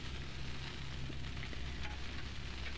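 Okra frying in a kadhai after a tempering of spices, a steady close sizzle and crackle that runs continuously with no voices.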